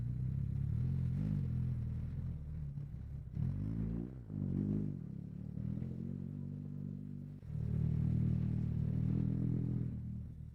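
A BMW R 1300 GS adventure motorcycle engine runs under load on Metzeler Karoo 4 tires, its low rumble rising and falling through several throttle surges and revs, recorded close and continuous for about ten seconds.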